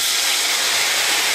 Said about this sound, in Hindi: तो चलिए पानी डाल देते हैं